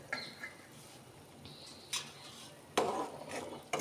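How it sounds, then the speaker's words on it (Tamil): A spoon stirs asafoetida into onion tamarind kuzhambu in a pot, giving soft scrapes and a few sharper clinks against the metal, quiet and close with gaps between strokes. "ஆட் பண்ணி கிண்டி விடுங்க"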